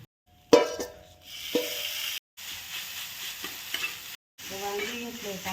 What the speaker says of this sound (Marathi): जिरे मोहरीची कडक फोडणी दिली.